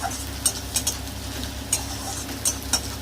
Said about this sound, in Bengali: যে ভাজা ভাজা হয়ে এসছে পেঁয়াজটা,